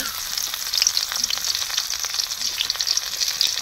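Onions hitting hot oil for a home-style layer chicken curry, a steady loud sizzle and crackle of frying that holds throughout without talk.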